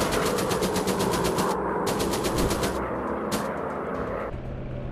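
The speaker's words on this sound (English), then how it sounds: "Use gunfire." A WWI fighter plane's machine gun fires in a VR dogfight at night, three rapid rattling bursts separated by short pauses over a steady engine drone.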